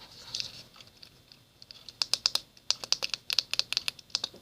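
Click button on an Antsy Labs Fidget Cube pressed repeatedly up close: crisp, bright little plastic clicks in quick irregular bursts, with a couple of softer taps before the run of clicks.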